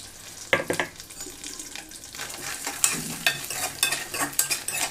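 Cashews, almonds and chopped dry dates roasting in ghee over a low flame for sweet semiya, a soft sizzle broken by sharp spoon clinks and scrapes in an uneven rhythm, close and moderately loud.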